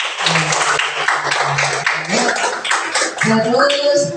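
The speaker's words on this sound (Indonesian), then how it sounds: "Tepuk tangan untuk Billy dan Mira." Schoolchildren in an Indonesian classroom clap together for classmates during a maths lesson, a busy rattle of hands mixed with voices and chatter running the whole time.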